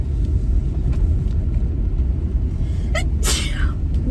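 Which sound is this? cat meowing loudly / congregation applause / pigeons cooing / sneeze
sneeze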